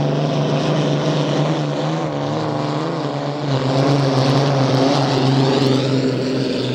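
A loud, sustained engine roar with a wavering pitch, steady and close, as a classic hydroplane racing boat passes by at Seafair.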